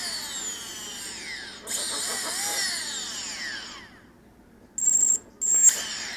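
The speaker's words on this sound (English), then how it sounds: "And see, it's doing it goofy, but the motor's spinning" A small brushless motor driven by an Emax BLHeli 20A ESC whines in sweeping, stuttering tones that rise and fall, cuts out, then gives two sharp high beeps near the end.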